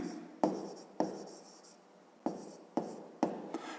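A year being written out on a board during a fifth-grade math exercise, with a series of crisp taps and short scratchy strokes in an irregular rhythm, close up and with no voice.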